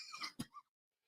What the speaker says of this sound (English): well, you got to cough there a little bit